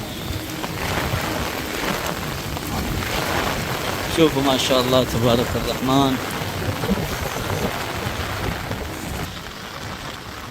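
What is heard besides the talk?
heavy rain in Medina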